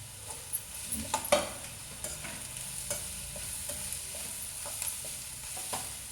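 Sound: green chilli pieces added and stirred, sizzling in oil

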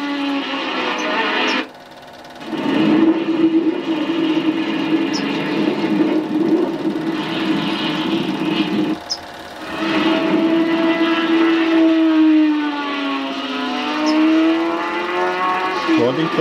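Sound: McLaren race car engine at airfield race, 1976 Super 8 film

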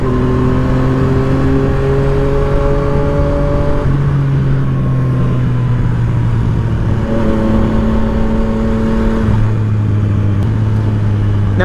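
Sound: used Yamaha MT-09 (FZ09) motorcycle being ridden

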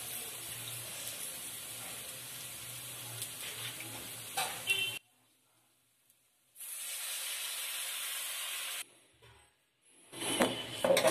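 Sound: tamarind added to puliyogare gojju, sizzling in the pan

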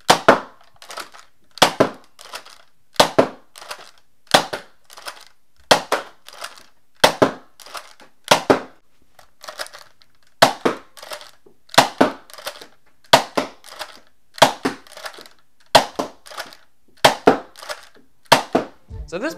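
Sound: modified Nerf Valiance Hammershot blaster firing Worker short darts

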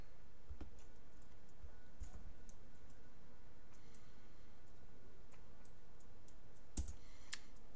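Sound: computer mouse clicking

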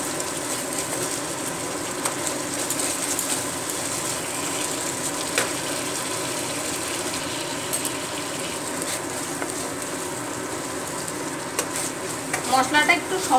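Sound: spice paste being stirred and fried in a pan

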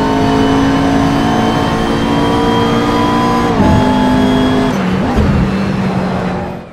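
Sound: race car driving in Assetto Corsa video game

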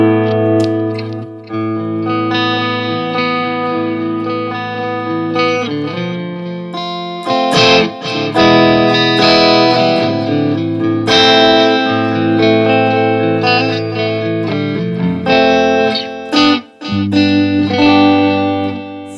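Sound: electric guitar through Marshall JVM 410H amp, clean green mode

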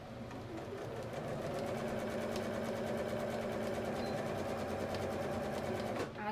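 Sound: sewing machine stitching fabric doll hair

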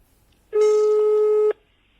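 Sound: telephone call ringing tone

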